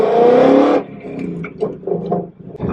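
Tuned 2020 Ford Mustang GT V8 revving up hard and loud close by, climbing steadily for under a second before cutting off, then idling and burbling unevenly in the background.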